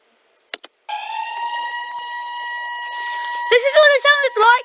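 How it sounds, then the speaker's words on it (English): A fire alarm siren of the kind sounded at big fires gives a steady, loud harmonic tone after two short blips, then breaks into a wavering, warbling wail toward the end. "When there were big fires anywhere, these sirens were always sounding."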